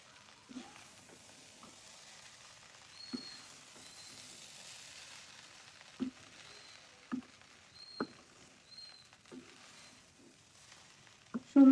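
Egg fried rice with scattered chopped coriander being tossed in a pan, a quiet background sizzle broken by intermittent spatula scrapes and clacks against the pan, with a louder knock at the end.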